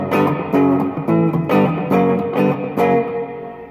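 Distorted electric guitar chords through a Fender Bassbreaker amp ring out with spacious reverb, each strum trailing off into a roomy echo, like playing in a large hall.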